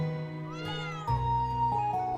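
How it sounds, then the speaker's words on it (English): A cat in the video game The Legend of Heroes: Trails of Cold Steel 4 gives a couple of clear, drawn-out meows over a sustained musical drone, close and alone without speech. "hey, kitty cat"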